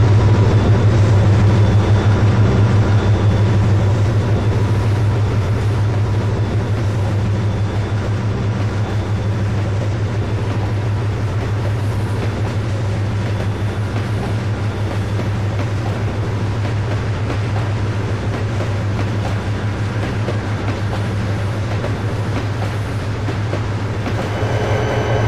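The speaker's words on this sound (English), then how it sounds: "After another 34 minutes, Joe arrived with a mixed merchandise train from Roanoke." Mixed merchandise freight train arriving from Roanoke, a long steady low rumble of locomotive and wagons with faint rail clatter, sustained and moderately near throughout.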